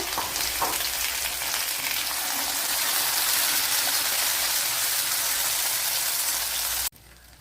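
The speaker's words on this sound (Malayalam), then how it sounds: "ഇനി ഇതിലേക്ക് ഈ തക്കാളിപ്പഴം കൂടി ഇട്ട് കൊടുക്കുക" A fish curry pan of ayala (mackerel) sizzles loudly and steadily as tomatoes go in, a dense frying hiss with no talk over it, cutting off abruptly near the end.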